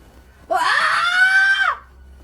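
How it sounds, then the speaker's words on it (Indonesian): A woman lets out a single sustained high-pitched scream lasting about a second, loud and close over a quiet background, during a mountain hike. "Dengar Nita teriak kayak gitu, kaget semuanya"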